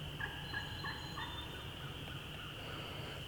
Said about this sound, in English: he's gobbling really good